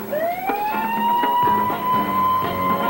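An emergency vehicle siren winds up in a 1977 television episode, rising then holding a loud steady wail over rumbling engine and road noise, with no talk.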